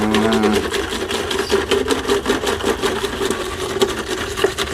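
A whisk beats cooled boiled water into a noodle dough mixture in a bowl, giving rapid, rhythmic scraping and sloshing strokes, close and fairly loud.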